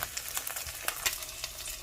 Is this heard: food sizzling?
yes